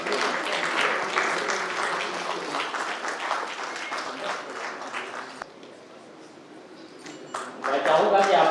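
A retirement ceremony audience applauds in a hall: sustained, dense clapping that fades out midway, a brief lull with a voice on a loudspeaker, then clapping swells back loudly at the end.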